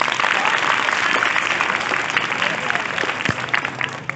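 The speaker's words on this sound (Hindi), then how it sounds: "जोर से ताली लगाओ इन बच्चों को।" An audience at a school youth program applauds children, dense sustained clapping filling the whole stretch, loud and steady with a brief thump partway through.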